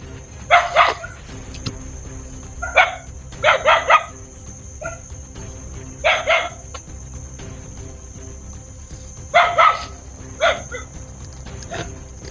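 Dogs at a rural hut bark in scattered short bursts and clusters, moderately close, over a steady background of insects or crickets chirping; there is no talk.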